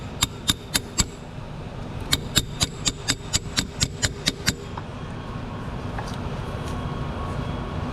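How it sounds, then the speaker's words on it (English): A hammer taps a Toyota Camry CV axle deeper into its groove while it is pried up, giving two runs of sharp, evenly spaced metallic knocks, four and then about ten, over a steady background hum. "now we're going to pry it up while continually tapping it to get it deeper into its groove"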